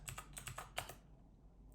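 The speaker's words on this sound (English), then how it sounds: "I like typing it because it helps me get better at typing" Quick clicking keystrokes on a computer keyboard as an SSH command is typed, in a few short bursts with a pause near the end; close but fairly quiet, with no voices.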